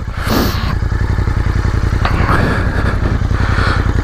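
A Royal Enfield motorcycle, a twin with twin exhaust pipes, idles in neutral with a steady, loud, close-up thumping throb and a faint mechanical clatter running throughout.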